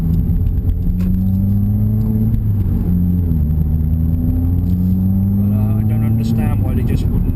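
A 2016 Subaru WRX turbo engine hums steadily during a quiet evening drive, a low droning note that rises and dips gently with throttle, close and continuous as someone talks over it.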